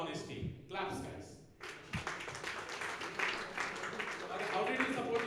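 A hackathon audience claps for a participant, a scattered, moderately loud patter of hands that builds after a short opening, mixed with voices talking over it.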